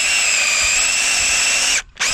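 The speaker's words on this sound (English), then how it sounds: "So you're gonna take your drill, get a nice big drill bit," Power drill with a large bit boring into a tree stump: a steady, loud, high-pitched whine that holds for nearly two seconds, cuts out briefly, then restarts.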